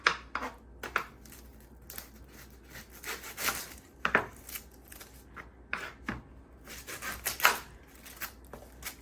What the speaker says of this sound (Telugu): సో నేను ఎగ్స్ తీసి ఫస్ట్ ఆనియన్ కూడా కట్ చేసేసుకుంటాను